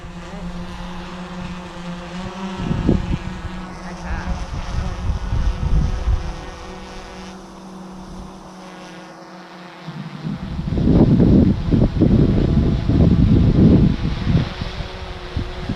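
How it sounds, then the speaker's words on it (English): GoPro Karma drone propellers spinning up for takeoff and flight, a steady mechanical whir that swells loudly in the second half, close by and heard alone without talk. "I'm going to send it up, yeah?"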